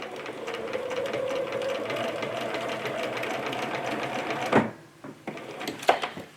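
A home embroidery sewing machine stitches a scalloped table topper, a steady fast mechanical whirring hum for several seconds that stops abruptly, followed by a few faint clicks and handling knocks.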